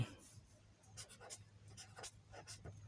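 Pen scratching across paper while numbers are jotted down, a run of short irregular strokes close by over a low steady hum, with no one talking.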